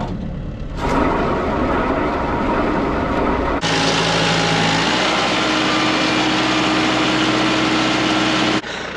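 A car's engine runs loudly and close as the vehicle drives a short distance, its steady drone shifting to a smoother, more even tone partway through before cutting off abruptly near the end.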